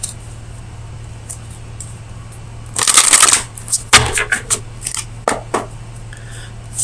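An oracle deck (Oracle of Visions) shuffled during a Gemini love tarot reading: a loud riffle burst, then a run of sharp card taps and flicks, close and clear over a faint steady hum.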